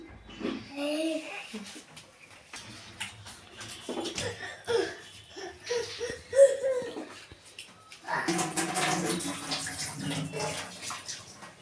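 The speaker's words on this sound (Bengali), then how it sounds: "আলুগুলোকে আমরা নিয়ে ধুয়ে নেব।" Potatoes being washed in water for a village lentil-fritter and potato curry dish, with splashing and sloshing that swells strongly near the end, while people talk and a child chatters over it.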